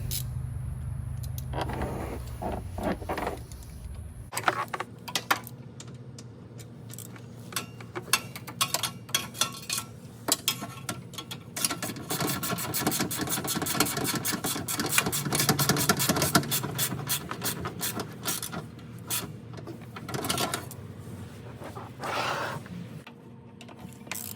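Lift kit bolts on a Ford Excursion are tightened with a ratchet, giving rapid clicking runs broken by pauses and louder clunks, close up with a low background hum.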